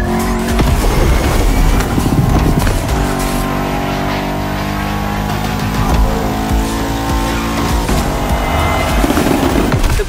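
In The Crew Motorfest, a Bugatti Veyron Barchetta races with a loud, close engine roar that climbs through the gears, mixed with tire squeal and skidding, and the noise holds continuous throughout.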